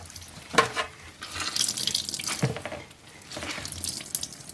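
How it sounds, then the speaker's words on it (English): Water dripping and splashing into a kitchen sink as shredded zucchini is wrung out by hand, in uneven bursts of trickling liquid with short pauses between squeezes. "I'm going to go to the sink and I'm going to wring these out."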